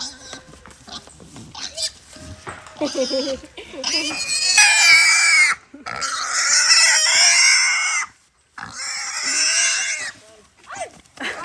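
A pig on a countryside farm squeals in long, loud, shrill bursts with brief gaps between them, close to the listener, while people talk around it and other farm animals are faintly heard.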